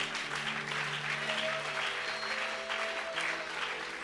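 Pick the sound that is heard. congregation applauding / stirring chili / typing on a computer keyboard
congregation applauding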